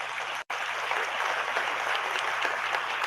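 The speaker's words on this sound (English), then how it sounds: "Can you give her a round of applause?" An audience gives a sustained round of applause, a steady dense wash of many hands clapping with a brief dropout near the start.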